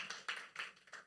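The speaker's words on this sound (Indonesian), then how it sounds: "Boleh tepuk tangan," Scattered audience clapping at a corporate Prudential Syariah presentation, a few faint claps in loose rhythm, quiet and somewhat distant with no talk over it.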